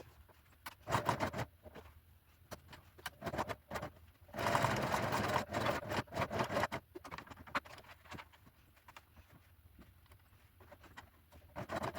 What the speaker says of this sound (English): I'm going to do a zigzag stitch running the whole way round this outside edge